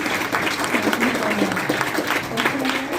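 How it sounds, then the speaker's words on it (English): Applause at a speaking event featuring Senator Young, steady clapping through the whole stretch with faint voices mixed underneath. "Let's get a hand clap for that."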